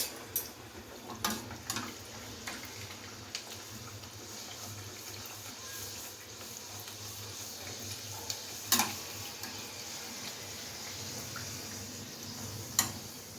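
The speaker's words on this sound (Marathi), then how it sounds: "ते आता फ्राय करून घेऊया पुरीला." Puri frying in hot oil gives off a steady low sizzle with occasional sharp ticks and clinks, fairly quiet throughout, with no talking.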